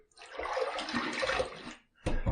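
Water splashing as a man wets his face before a wet shave, a watery rush over about two seconds, then a brief pause and a second sharp splash.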